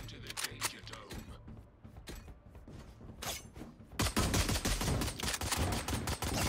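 Rapid bursts of video game gunfire crackle in a dense, loud fusillade, thickening into near-continuous shooting in the second half, with a voice briefly heard amid the shots.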